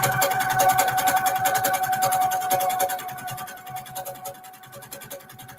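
A sewing machine stitching a quilt runs in a steady, rapid needle rhythm, close and fairly loud, slowing slightly and softening toward the end, with no talking.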